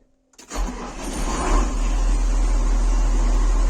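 A car engine cranks and catches after a brief silence, then settles into a steady, loud, close idle with a faint turbo whine; no talk.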